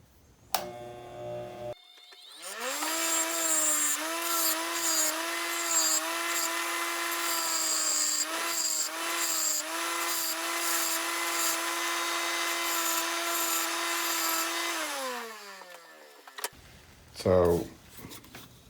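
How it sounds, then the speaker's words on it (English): An angle grinder cuts relief V grooves into the edges of metal parts before welding, spinning up into a steady high whine that holds for about twelve seconds with slight pitch dips under load, then winds down, with brief talking around it. "step one is going to be grinding off some of the edges and making a relief V in all these spots"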